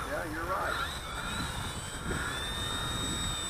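An eFlite 1.2 meter Spitfire RC model airplane flies overhead in wind, a thin electric motor whine rising and shifting in pitch at a distance, under steady wind noise and faint outdoor voices.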